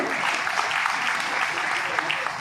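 An audience at a public event applauds, a dense burst of clapping from many hands that holds steady throughout, with voices mixed in.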